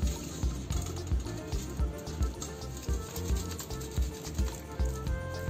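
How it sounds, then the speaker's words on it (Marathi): Two boiled potatoes rubbed across a hand grater, giving a steady run of rhythmic rasping strokes, close and fairly loud, with no talking. "हे आधी आपण किसणीवर किसून घेऊ।"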